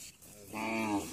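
A single drawn-out cow moo rises close by after a short stretch of background noise, from cattle at a farm in an India–Bangladesh border area.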